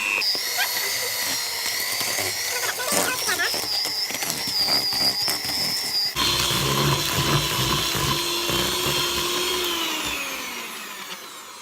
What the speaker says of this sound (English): we'll be using the electric whisk because it's a lot easier and a lot quicker